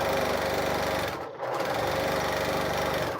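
A sewing machine stitching a quilt piece runs in a fast, continuous mechanical buzz, close and steady, with one brief stop near the middle before it resumes at the same pace.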